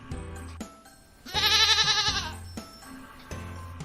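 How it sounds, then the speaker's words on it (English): A goat gives one loud, wavering bleat lasting about a second, close and clear between quieter background sounds. "G for goat."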